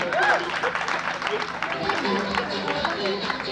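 Applause at a school awards ceremony, scattered clapping mixed with crowd chatter and a brief vocal shout near the start, moderately loud and busy throughout.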